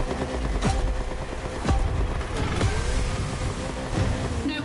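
A Ferrari race car drives hard on a circuit, its loud engine roar filling the whole clip with repeated pitch drops at gear changes.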